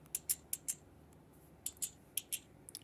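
A back door creaks open in the Minecraft video game, heard as a quiet string of short, sharp creaky clicks in two separate bursts, with no talking.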